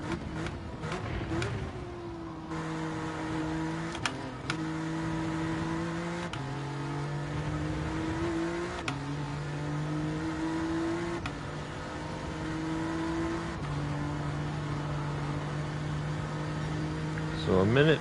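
A 400-horsepower car in a racing video game revs and shifts in repeated rising engine tones over a steady drone, moderately loud with no talking.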